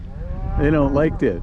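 Cattle at a pasture gate give a close, drawn-out moo with a second lowing call right after it, and a voice speaks briefly at the start.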